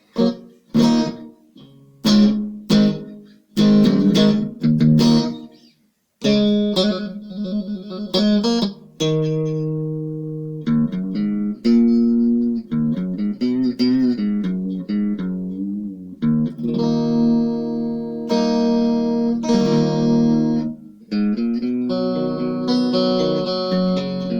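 Electric guitar on the bridge pickup played with strummed chords and single-note phrases, bathed in a roomy reverb pedal effect that lets notes ring out, loud and continuous without talk.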